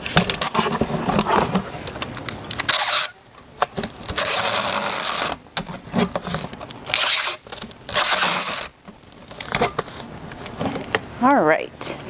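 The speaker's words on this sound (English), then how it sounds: "and of course your tape gun. So let's get started. So first, you want to tape up your box." A tape gun sealing a cardboard box, long loud ripping screeches of tape pulling off the roll in repeated strokes with short gaps between, close by, and a voice speaking briefly near the end.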